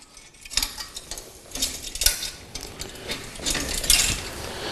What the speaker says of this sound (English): We can now refit the R pins.